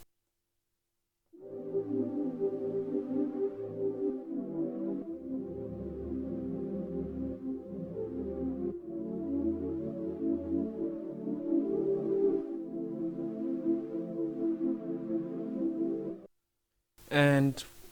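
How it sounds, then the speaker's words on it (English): Swarm Pad synth preset from Xenology plays sustained, shifting chords with a slowly moving, swirling texture for about fifteen seconds, then stops, followed by a brief burst of another sound. "the pad is also from Xenology, and the name of the preset is Swarm Pad"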